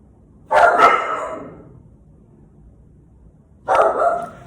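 Two loud bursts of barking, a couple of seconds apart, with a quiet pause between them; the barks sound close and overlapping, like more than one dog.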